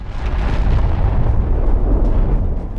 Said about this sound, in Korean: 배틀월드는 폭발에 휘말립니다.